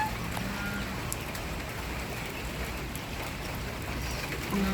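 Rain pouring onto a flooded duck and chicken pen, a dense, steady hiss of water with no pauses and no one talking.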